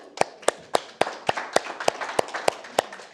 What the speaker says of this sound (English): big clap for these people